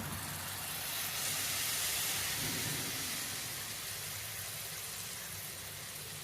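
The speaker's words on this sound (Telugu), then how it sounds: "ఇప్పుడు పాలకూర పేస్ట్ వేసుకుంటున్నాను." Spinach paste hits a hot frying pan and sizzles in a steady, loud hiss that holds for several seconds without talk.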